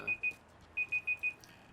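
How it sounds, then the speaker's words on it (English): An alarm beeps during Metal Gear Solid 5 gameplay as a series of sharp, high electronic tones in clipped pairs and runs, with a short gap early on, loud and close with no voices. "I hope you enjoyed our awkward alarm going off."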